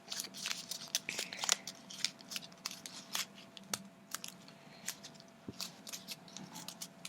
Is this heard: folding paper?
yes